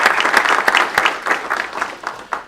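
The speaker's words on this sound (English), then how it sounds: "Let's give them a big round of applause as well." Audience applause at a distinguished leaders lecture at Damon College, honoring members of the board of trustees: dense, steady clapping from a sizable crowd, fairly loud and close, with no talk over it, fading slightly toward the end.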